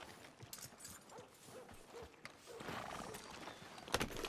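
A horse in a video game clip-clops along under a rider and lets out a neigh, hoofbeats soft and scattered before a louder whinny swells near the end.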